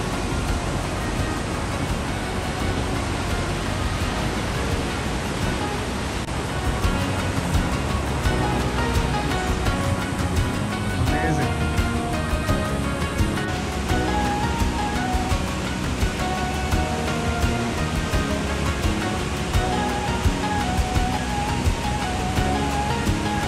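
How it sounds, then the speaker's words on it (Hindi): Water rushes steadily near a bridge in Vancouver, a dense, unbroken roar that holds constant for over twenty seconds with no voices. "आवाज़ आ रही होगी यहाँ से पानी के गुजरने की।"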